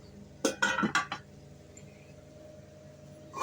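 Metal cooking pot for tempering being handled in a kitchen, giving a quick cluster of clanks and clinks over about a second, then quiet room tone.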